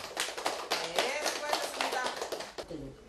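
Close, crisp hand clapping for elderly learners at a community school class, an irregular run of sharp claps from a small group, with voices talking faintly underneath.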